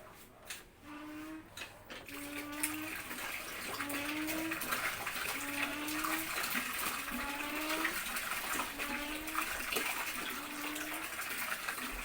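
Water runs for a bath in a bathroom, a steady, loud gush filling the whole stretch, with a repeated tonal whine rising and falling over the rushing flow.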